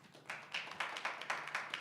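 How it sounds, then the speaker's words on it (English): A convention audience at a podcast panel gives light, distant applause, a quick patter of claps that builds and holds for a couple of seconds. "Oh my gosh, there's even applause."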